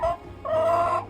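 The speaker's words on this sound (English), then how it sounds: "Don't be letting your mama chickens out." Mother hens clucking nearby in a backyard coop, a short cluck followed by a longer, louder run of throaty calls.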